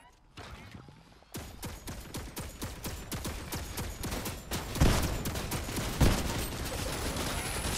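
A turret firing in the video game Fortnite gives a fast, continuous volley of sharp shots over several seconds, loud and close, with a couple of heavier bursts mixed in.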